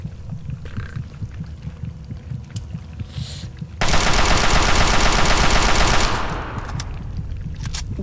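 Gunfire in Fallout 3, a loud sustained burst of rapid automatic shots lasting about two seconds, set against quieter background rumble before and after.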